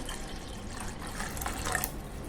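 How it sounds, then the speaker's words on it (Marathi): Half a glass of water poured into lightly churned curd to make buttermilk, a steady watery trickle and splash running throughout at moderate level, with no voices. "अर्धा ग्लास एवढा यात पाणी टाकायचं आहे"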